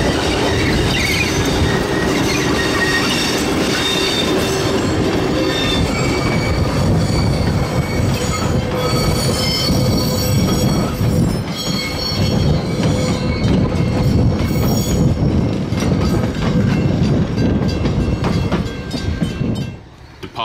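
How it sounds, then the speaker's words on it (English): A goods train runs on a heritage railway at Ferrymead. It passes close and loud for about twenty seconds with continuous wheel rumble, clattering wagons and high squealing from the wheels, then fades slightly at the end. "Another run with the goods train, with EO3 marshalled in the consist."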